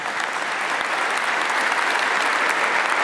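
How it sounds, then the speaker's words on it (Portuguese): Applause fills the Jerónimos Monastery church in Lisbon, a dense, sustained clapping from a large crowd inside a reverberant stone interior, steady and strong throughout. "o Mosteiro dos Jerónimos da Igreja enche de palmas com este muito obrigado, dito pelo Papa Francisco."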